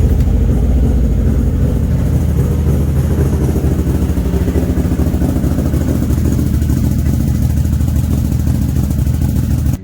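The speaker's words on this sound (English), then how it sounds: "you want to cycle the engine for like a good 60 seconds, you know, let it warm up a slight bit and cycle around the engine oil" A Warrior 1000 side-by-side engine runs steadily just after an oil change, a loud continuous idle rumble close by that holds even throughout and cuts off abruptly at the end.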